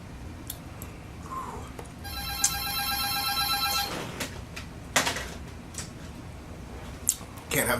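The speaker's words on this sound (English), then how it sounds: "Can't have the phone interrupting me." A telephone rings with a bright electronic trill lasting a couple of seconds amid background room noise, with a few knocks and clicks around it.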